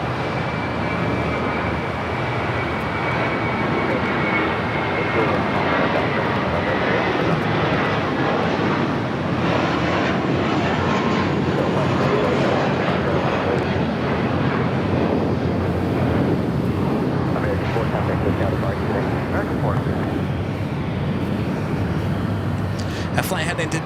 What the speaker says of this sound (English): That flight heading to JFK, American Airlines Flight 4. It's an A321.